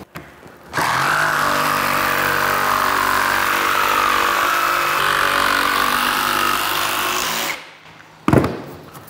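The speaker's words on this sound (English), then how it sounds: "Jigsaw goes through that nicely." Jigsaw cutting lengthwise through vinyl plank flooring, a loud steady buzzing whine held for about seven seconds, then the saw stops, followed by a brief clatter.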